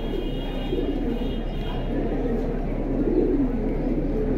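Pigeons for sale at a pigeon market coo in a low, continuous murmur over a steady background hum, fairly close and moderately loud, with faint voices in the background.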